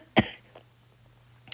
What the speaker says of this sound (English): Let's see if I can hold these coughs in.